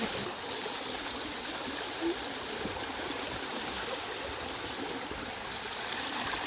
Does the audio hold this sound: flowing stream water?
yes